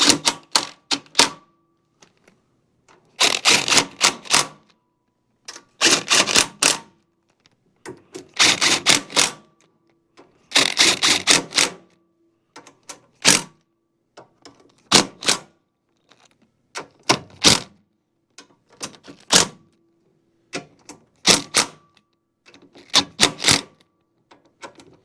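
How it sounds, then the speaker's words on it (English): Impact wrench torquing snowblower bolts to 80–106 inch-pounds, repeated short bursts of sharp rattling hammering separated by silences, close and loud, each burst lasting about a second. "I'm going to do that just perfectly with my impact."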